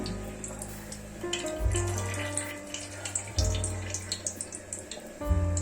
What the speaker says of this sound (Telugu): ఆయిల్ వేసుకుందాం.